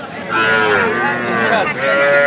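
A young heifer calf at a cattle market lets out a loud, close, drawn-out moo that rises and wavers, followed by a second shorter call, with no talking over it.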